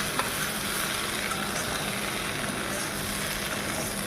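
Okra frying with spices in a pan for a Maharashtrian-style bhindi fry, a steady close hiss and sizzle throughout.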